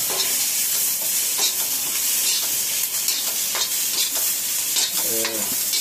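Onion sizzles in hot oil in a pan while being stirred, with garlic cloves added, producing a loud continuous frying hiss punctuated by repeated scraping strokes of a spoon against the pan.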